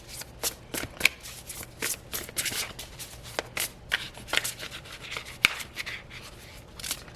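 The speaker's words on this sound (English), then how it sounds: "I'm going to go ahead and shuffle the cards and lay them out." Tarot cards being shuffled by hand in a series of quick riffling and sliding bursts, close and crisp, with a faint steady hum underneath.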